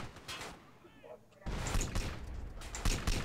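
Soldiers open fire in GTA San Andreas, quiet gameplay bursting into a loud, sustained volley of overlapping shots that runs to the end, with a voice briefly heard early on.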